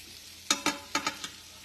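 Butter sizzles in a hot pan on high heat, heard as a quiet background hiss broken by five sharp crackling bursts in quick succession before fading back down.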